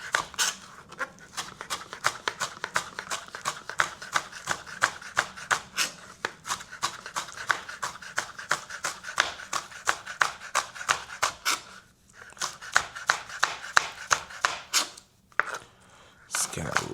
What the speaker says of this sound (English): So I'm just gonna chop it up as small as I can.